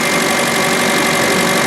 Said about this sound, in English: 2-liter inline 4, 16-valve dual overhead cam engine.